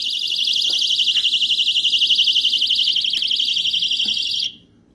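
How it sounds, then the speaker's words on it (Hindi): A small battery-powered personal emergency alarm shrieks with a loud, piercing warbling tone that holds steadily for several seconds and then cuts off abruptly into near silence. "ये देखें, इमरजेंसी अलार्म।"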